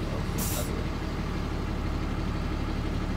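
A tractor-trailer truck in low gear rolls forward at walking pace during an air brake test, its low engine rumble steady throughout, with a short hiss of released air near the start.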